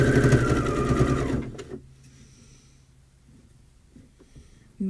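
A sewing machine runs a straight stitch with a fast, close mechanical whir that stops after a second and a half, leaving faint handling sounds.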